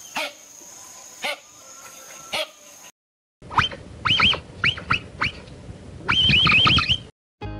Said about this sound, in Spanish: Los individuos hacen una especie de ladrido para advertir al grupo del peligro